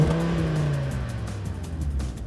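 A turbocharged 2.5-liter inline five-cylinder engine in an Audi TT RS revs loud and close, a deep droning tone that sags in pitch while the car pulls, with no voices.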